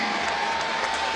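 A boxing arena crowd roars and applauds continuously, a dense wash of cheering and clapping with no pauses, heard from within the audience.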